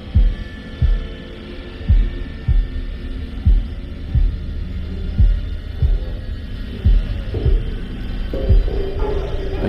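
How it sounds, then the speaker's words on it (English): A heartbeat pulses through a video game's underwater scene on a pirate-spoiled diving trip, a steady low thump roughly every 0.8 seconds, loud and close over a constant droning hum. "Can hear our heartbeat."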